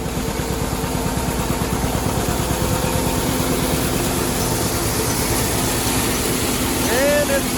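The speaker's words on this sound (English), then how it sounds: "I don't know if you can hear me over the sound of the grinder" A John Deere 815 Feed Master grinder runs loudly, driven by a John Deere 630 tractor, with a rapid regular mechanical pulsing and engine drone throughout, plus a brief rising squeal near the end.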